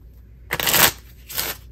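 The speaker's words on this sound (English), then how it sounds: "I'm shuffling cards" A deck of playing cards is shuffled in two quick riffling bursts, the first longer and louder, close up in a quiet room.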